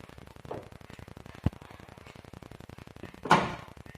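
The front left steel door of a Mitsubishi Lancer GLX is opened with a faint click, then shut with a solid thud, set against a steady ticking background hum.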